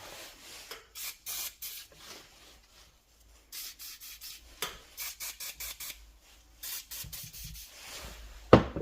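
Motorcycle parts on a Ducati 959 Panigale are scrubbed clean with a brush, heard as short, close bursts of scrubbing strokes separated by brief pauses, moderately quiet, ending with a louder knock.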